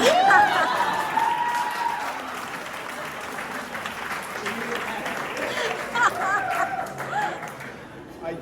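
Audience applause at a community soirée fills the room, steady clapping with crowd chatter and a few chuckles, while a voice speaks over the opening seconds.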